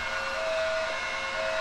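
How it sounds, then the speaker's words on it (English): A London-style police siren from a realistic siren mod in GTA 5 sounds a steady, sustained tone that fills the whole clip, loud and continuous with no break. "So I've got a realistic siren mod in my game now. I fixed the London sirens."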